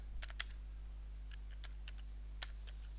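Keys clatter on a computer keyboard as a short C program is typed, a few separate quick taps and brief bursts spread over a quiet background hum.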